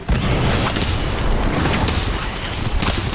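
Casting the Incendio fire spell in the mobile game Harry Potter: Magic Awakened brings a dense, loud roaring burst of flame and booming effects that fills the whole moment without pause.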